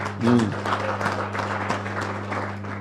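Applause for the Vice President at a Brekete Family program gathering, soft and steady for a few seconds under a constant electrical hum, with a slightly louder swell near the start.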